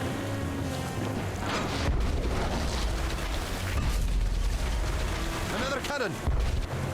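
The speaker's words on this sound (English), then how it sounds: "Another cannon." Cannon fire in Tales of Monkey Island rumbles as a couple of deep booms amid clanking shipboard mechanisms and game effects, with a voice talking briefly in the background.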